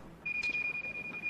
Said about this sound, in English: that's the smoke alarm in Sophia's room